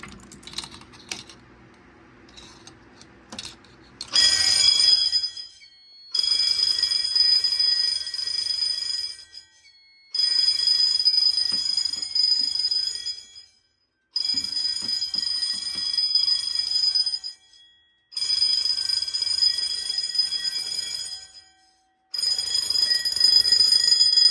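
Simplex fire alarm bells ring during a drill test after a small Simplex key switches the panel to test mode. A few quiet clicks come first, then loud, metallic ringing in repeated bursts of about four seconds, each followed by a brief pause.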